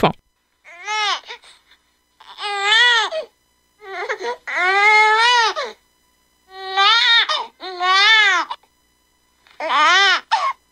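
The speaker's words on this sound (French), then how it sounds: "on va essayer de vous mettre un petit extrait juste après de ce pleur" A baby cries while seeking to suckle, several short rhythmic wailing bursts separated by brief pauses, close and fairly loud.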